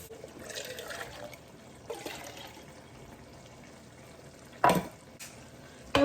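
A container is rinsed out with water, giving faint splashing and swishing with a few louder bursts of clatter near the end, quiet overall and without speech.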